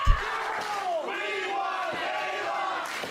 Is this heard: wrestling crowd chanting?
yes